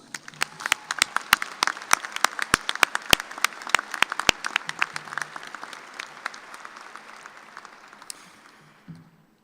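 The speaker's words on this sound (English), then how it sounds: "a big round of applause" Applause from a commencement audience as graduates' families and friends are honored, sharp claps starting loud and dense across the hall, then thinning and fading toward the end.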